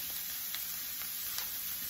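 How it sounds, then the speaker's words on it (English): Steady crackling sizzle of corn frying in a hot pan, close and continuous with small pops, no talking. "while it's frying up"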